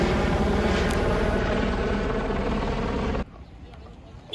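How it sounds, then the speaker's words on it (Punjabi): A helicopter flying from Gobind Ghat toward Gobind Dham on the Hemkunt Sahib route drones loudly and steadily, a dense broadband rotor roar that cuts off abruptly near the end. "ਉਹ ਹੈਲੀਕਾਪਟਰ ਦੇਖ ਰਹੇ ਹੋ ਤੁਸੀਂ ਗੋਬਿੰਦ ਘਾਟ ਤੋਂ ਗੋਬਿੰਦ ਧਾਮ ਲਈ ਜਾਂਦਾ ਹੈ"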